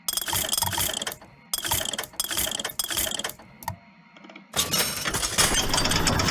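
Weapon upgrade machine in the BioShock Infinite video game, a run of loud mechanical ratcheting and gear-clicking bursts in several pulses, a short pause, then a denser sustained whirring clatter at the end.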